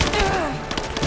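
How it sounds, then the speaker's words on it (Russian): Explosive arrow blast in the video game Rise of the Tomb Raider, a loud burst with crackling debris rumbling through the whole second amid dense game sound. "Взрывающаяся стрела."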